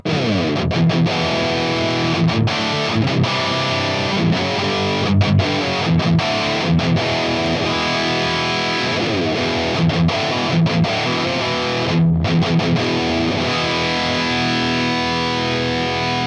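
Distorted electric guitar plays a steady, continuous riff through a Lickliter Scalpel amp with the boost pedal off, loud and dense with rhythmic chord stabs throughout.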